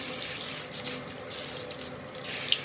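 Tap water runs steadily into a bathroom sink during face washing, a close, continuous splashing hiss with no pauses and no voices.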